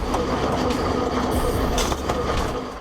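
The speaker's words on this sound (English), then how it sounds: "the Alpha X Shinkansen test train returned to the rails, racing at speeds of up to 350 kilometers per hour" An Alpha-X Shinkansen test train rushes along the track at high speed, producing a steady, loud roar of wheels and rushing air that holds throughout without any pause.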